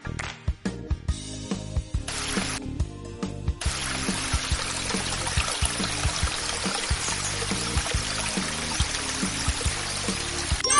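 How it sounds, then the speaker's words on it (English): Water pours and trickles through connected pipes in a children's puzzle game, a steady bright flowing stream beneath repeated light tapping clicks and game music. "Help Cleo to water the flower."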